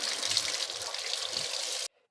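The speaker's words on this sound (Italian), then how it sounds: "prendo 750 g di peperoni, eccoli qua, li sciacquo sotto l'acqua" Bell peppers rinsed under running tap water, a steady bright hiss of the stream splashing over them, close and continuous before cutting off abruptly.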